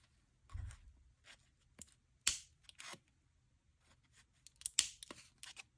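Irregular crisp snipping and crunching as AliExpress side cutters bite through paper folded twice, with a few louder clacks, close and quiet, no talking.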